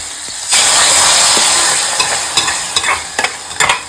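Hot tempering is poured into a roasted-coconut mushroom curry and bursts into a loud, hissing sizzle that slowly settles, broken by sharp spatter pops and stirring clicks near the end, with no one speaking.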